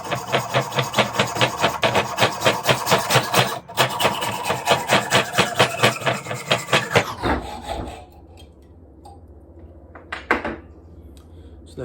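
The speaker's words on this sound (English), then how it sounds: "So there you go, that's the pipe been cut." Old copper pipe is cut with quick, regular rasping back-and-forth strokes for about seven seconds, loud and close. A few quieter scrapes and handling sounds follow once the cut is done.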